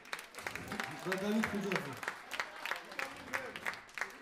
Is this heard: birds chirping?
no